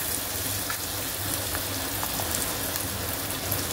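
Chopped onion sautéing in a pan while being browned to a light pink, a steady soft sizzle and crackle of frying filling the whole stretch without talk.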